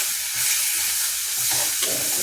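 Green chili, ginger and garlic sautéing in oil in a pan: a brisk, close sizzle with a few brief stirring scrapes and no voices.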